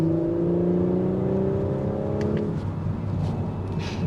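A 2022 Audi S5 Cabriolet's turbocharged 3.0 liter V6 pulls hard under acceleration, a steady engine drone rising then easing after a couple of seconds, heard from inside the car.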